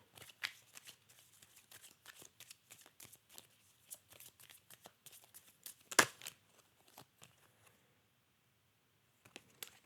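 Tarot cards are shuffled with quick bursts of riffling and crisp flicks. The cards are drawn up close, with a louder snap near the middle and a quiet pause before a final flick.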